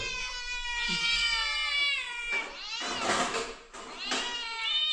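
A cat meows repeatedly, long drawn-out wailing cries up close, with short pauses between calls.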